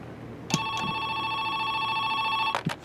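A landline telephone in the video game Joe's Diner rings with a steady electronic warble lasting about two seconds, with clicks before and after, alone over a low background hum.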